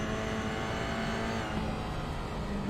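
Race cars circling in a GR86 racing sim game, a steady engine drone with tonal whine holding throughout and a slight shift partway, with no talk.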